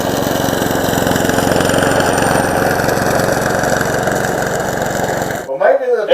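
A self-propelled lawn mower engine runs loud and steady at close range, then cuts out abruptly near the end, with someone talking over it.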